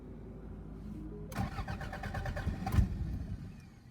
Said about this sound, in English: So I'll go ahead and auto start the car.